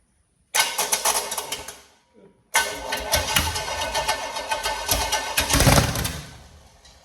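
Rebuilt small block Chevy V8 in a Sportcraft 252 boat cranks and catches at about half a second, cuts out briefly, then restarts and settles into a loud, steady idle close by with a rising swell near the end.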